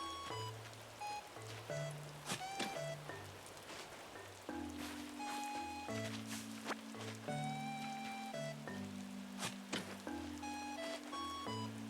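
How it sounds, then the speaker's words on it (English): Soft rain ambience from Animal Crossing: New Horizons, a gentle steady patter under the game's calm melodic music with plucked notes and mellow tones, quiet and continuous with no talking. "plus with the sound of the rain"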